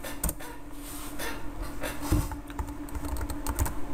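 Rapid, close keystrokes on a computer keyboard while a SQL select statement is typed, a continuous irregular clatter over a faint steady hum, with no talk.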